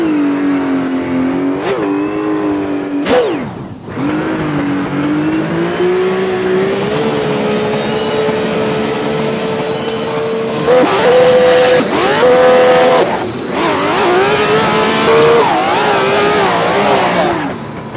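A car accelerates hard from first gear, its engine revving loud and steady, then sharp dips mark quick gear shifts before the revs climb again, close and dominant throughout.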